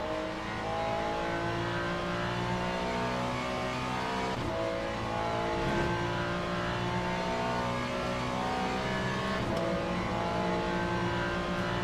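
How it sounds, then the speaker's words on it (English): Hypercars in the Le Mans Ultimate racing game roar past, a continuous layered engine drone with rising revs from the cars, steady and fairly loud with no talk. "Hypercars are coming."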